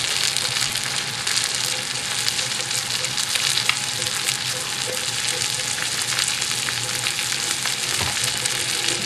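Pistachio-coated chicken fries on high heat in a pan in a small kitchen, a steady, close hiss and crackle of sizzling oil throughout with no talk.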